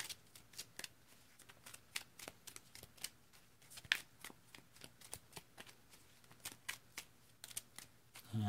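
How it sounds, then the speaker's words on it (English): A deck of Pokémon trading cards is shuffled by hand, a steady run of crisp riffling snaps and slaps close by, repeating in short bursts with a brief louder flick near the middle, with no talking. "let's go ahead and shuffle up"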